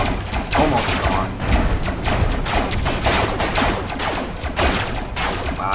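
An explosion in the robot-building combat game Robocraft, part of a dense, loud barrage of crashing blasts and rapid weapon fire that runs without a break through the whole stretch.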